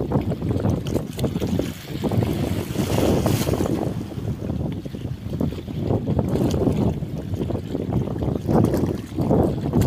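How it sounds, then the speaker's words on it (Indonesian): A large ship leaves a harbour after unloading, heard as a steady low rumble mixed with wind buffeting the microphone and washing water, continuous and fairly distant with no talk. "kapal yang tadi baru saja keluar ternyata bergerak ke arah timur"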